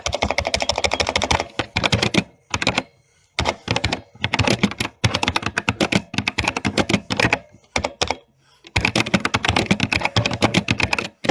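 Rapid, clattering keystrokes on a non-mechanical computer keyboard, close up, in bursts separated by brief pauses, with no voices.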